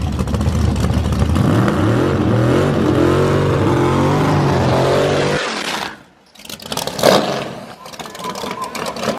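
A drag race car rolls out in high gear after a burnout, its engine droning loud and steady before cutting off abruptly. Rough mechanical noise and clunks follow.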